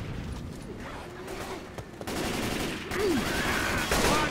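Gunfire in the zombie shooter Left 4 Dead, a dense run of rapid shots that grows louder after the midpoint, mixed with game sounds and brief voice fragments.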